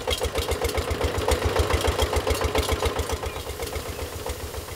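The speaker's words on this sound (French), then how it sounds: "Il s'agit maintenant de pomper l'eau du fleuve au moyen du moteur diesel." A diesel engine chugs in a fast, even rhythm while pumping water from a river for irrigation in rural Cambodia, a steady mid-level thumping drone that runs throughout with no voices.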